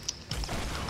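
Fortnite weapon reload, a quick mechanical click followed by a short burst of ratcheting, creaking gear-like clatter, close and moderately loud under steady game noise, no talk.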